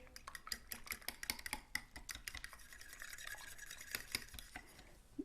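Four eggs are whisked by hand in a bowl, a quiet, rapid stream of light clicking and tapping strokes that continues steadily with no talking.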